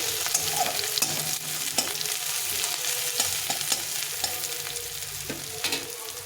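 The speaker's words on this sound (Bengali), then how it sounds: "এখন আমার এই পেঁয়াজটা অনেকটা ভাজা হয়ে গেছে তারপর লাল লাল হয়ে যাচ্ছে" Onions browning in a pan hiss with a dense, continuous close sizzle, broken by light taps and scrapes of a stirring utensil at irregular intervals.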